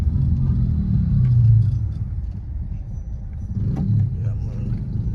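Car driving along a road in Ocho Rios, Jamaica, a steady low rumble of engine and tyres that swells and eases as it moves, heard from inside the vehicle.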